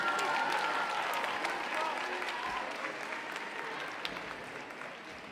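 An audience at the closing ceremony of the Chidon Ha'Tanach national Bible contest finals applauds the winners, a steady wash of clapping that slowly fades, with some voices in the crowd.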